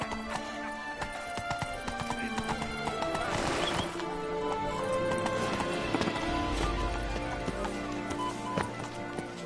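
Roach, a horse in The Witcher 3 game, gallops with steady rhythmic hoof clip-clops and a whinny, set against a dense layer of game music and ambience.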